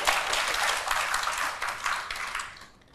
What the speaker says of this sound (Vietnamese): mọi người có thích thì vỗ tay mà ủng hộ lên này